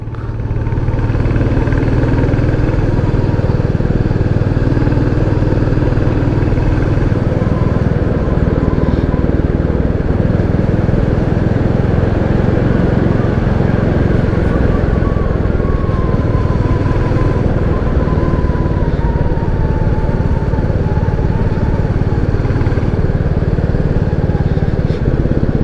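A Royal Enfield Classic 350 motorcycle climbs uphill in fourth gear. Its thumping single-cylinder engine drones steadily and close up, with rushing wind throughout and no break.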